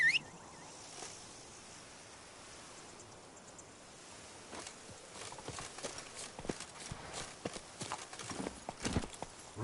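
Roach, the horse in The Witcher 3 video game, clip-clops along in a quick rhythmic run, the hoofbeats gradually growing louder over a soft outdoor ambience.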